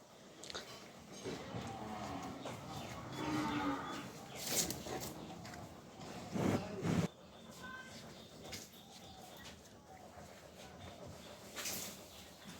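Red cows mooing at a village farm house, several low moos of varying loudness over about twelve seconds, some nearer and louder, with faint birds in the background.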